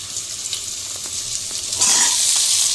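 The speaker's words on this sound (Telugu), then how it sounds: "ఆనియన్స్ అయితే వేగిపోయాయి, ఇప్పుడైతే వెజిటేబుల్స్ వేసేసుకుందాం" Chopped vegetables tossed into fried onions for a quick vegetable khichdi, with a steady close sizzle and light stirring taps that swell into a louder hiss as the vegetables hit the hot oil.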